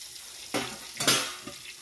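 Two sharp bursts of sizzling as spices hit hot oil with bitter gourd in the pan, with a brief crackle trailing off between them.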